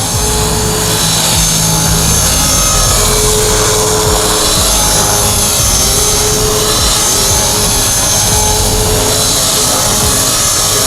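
A Devil X360 RC helicopter flies close by with a loud, constant whining buzz from motor and rotor that holds steady from start to finish.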